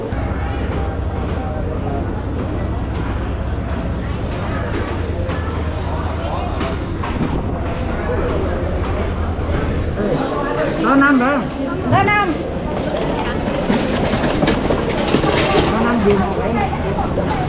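A train at a railway station in Vietnam gives a continuous low rumble with occasional clatter, heard under steady nearby talking.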